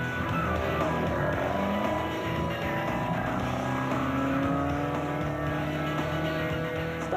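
A Nissan Hardbody rally truck drives in the Toyota 1000 rally in South Africa, its engine holding a steady, sustained drone with rising and falling tones as it pushes along.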